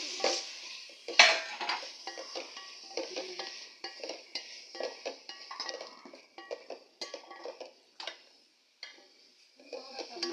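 Tomatoes cooking in a pan with crushed ginger and garlic give a soft, faint sizzle broken by frequent spoon scrapes and clicks against the pan, close by and uneven in rhythm.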